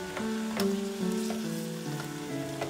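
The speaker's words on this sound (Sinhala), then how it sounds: "හැන්ද පාවිච්චි කරලා තෙල් එකත් එක්ක කවලම් කරගන්න." Onion flowers stir-fry in oil with soy sauce, stirred with a spoon: a steady, soft sizzle with faint scrapes and clinks of the spoon against the pan, heard close and without talk.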